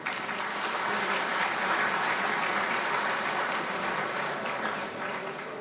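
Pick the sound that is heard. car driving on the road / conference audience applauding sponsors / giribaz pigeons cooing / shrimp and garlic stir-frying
conference audience applauding sponsors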